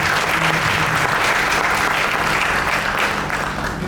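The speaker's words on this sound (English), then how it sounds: "how about a great big round of applause for all of our hospitals?" A hospital awards ceremony audience applauds, giving a loud, continuous roar of many hands clapping that holds steady for several seconds.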